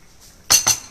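Plates and cutlery are picked up in a home kitchen where Mee Hailam is being served, giving three sharp, bright clinks close by after a quiet moment.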